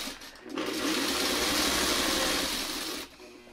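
Sewing machine stitching a Y seam, running at an even hum for about two and a half seconds after a short start, then stopping; close and moderately loud with no speech.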